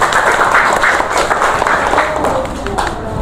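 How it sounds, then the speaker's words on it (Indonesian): Classroom audience applauding for presenting students, a sustained wash of many hands clapping at steady loudness for the full stretch, easing slightly toward the end. "Tepuk tangan buat kalian semua."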